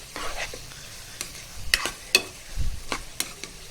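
Chicken jalfrezi sizzles softly in a pan while a spoon stirs it, making scraping clinks and light spatters against a steady low frying hiss.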